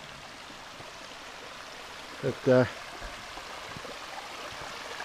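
A shallow river at a campground crossing flows with a steady, faint rushing hiss throughout, and a voice speaks briefly over it.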